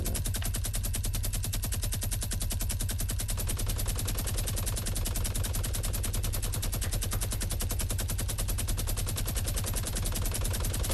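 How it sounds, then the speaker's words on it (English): Rapid, unbroken minigun fire from the Fortnite battle royale game, a dense mechanical rattle that runs loud and steady for the whole stretch with no break and no talking. "Let's minigun that shit down."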